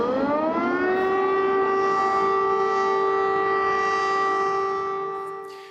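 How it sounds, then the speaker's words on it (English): An air raid siren in Kyiv during a massive overnight Russian air attack blares a long, steady, loud wail that swells gradually and then starts fading at the end. "You're listening to air raid sirens blaring in Kyiv as Russia launched a massive air attack overnight on the city"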